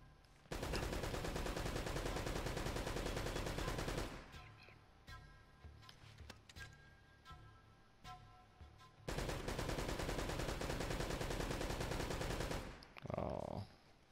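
Loud bursts of sustained automatic gunfire at a firing range in Uncharted: Drake's Fortune, two long rattling volleys of several seconds each separated by quieter gaps with scattered clicks.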